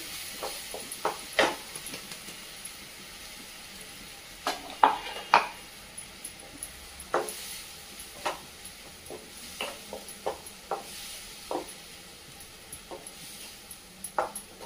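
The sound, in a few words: coconut, garlic and ginger paste sautéing in a pan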